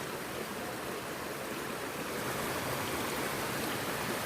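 Water flows along a stream in a wooded spot, a steady, soft, even rush with no pauses and no voices over it.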